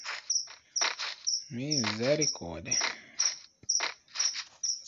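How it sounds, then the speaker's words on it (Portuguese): A cricket chirps in repeated, evenly spaced high bursts, close and clear, continuing under a man's exclamation midway. "Esse grilo aí, galera."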